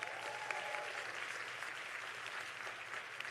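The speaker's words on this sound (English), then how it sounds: "Give yourselves a round of applause." Conference audience applauding, a steady wash of many hands clapping together, fairly faint and even throughout with no talking over it.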